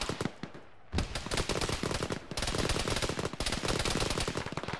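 Rifle fire in the Arma military video game, sustained rapid bursts of shots that rattle continuously after a brief gap, loud and close with a sharp echoing crack, and no talking over them.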